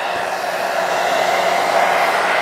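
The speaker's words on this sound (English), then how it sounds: "let me grab my hair dryer" A hair dryer set to low runs in a steady, even whoosh throughout, close and fairly loud, with no talking over it, while it is used to style a wig.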